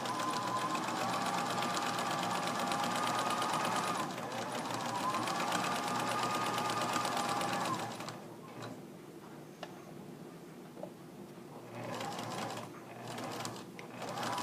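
A sewing machine stitches a sample seam with a fast, steady whirring hum in two runs over the first eight seconds, then falls quiet apart from faint ticks and a brief low whir near the end.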